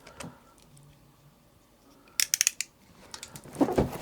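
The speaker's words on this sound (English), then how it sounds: "We'll slice one of these little lines here and rip off the plastic." Plastic wrap is sliced and torn off a DJI Mavic Air 2 Fly More Combo box: a quick cluster of sharp snips and crinkles, then a louder ripping rustle near the end, with quiet between and no talking.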